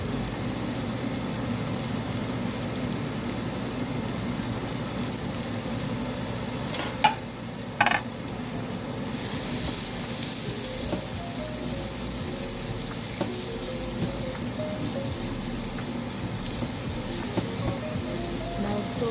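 Garlic, ginger and onion fry in a pan with a constant soft sizzle, joined by a few clinks of a utensil stirring, moderately close and without talk.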